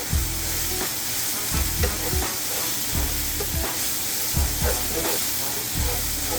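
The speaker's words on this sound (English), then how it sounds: "It's been sauteing for about 5 minutes or so." Onion and pepper sautéing in a pan, a loud continuous sizzle and hiss up close, broken by regular rhythmic scrapes of stirring roughly every second, with no talking.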